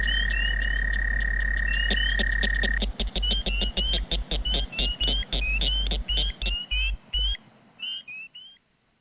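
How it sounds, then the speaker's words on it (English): A long steady trill of an American toad runs beneath rhythmic cricket chirps and repeated high peeps of spring peepers, a dense chorus of frog and insect calls that thins out toward the end. "So it is the American toad, cricket, and spring peeper."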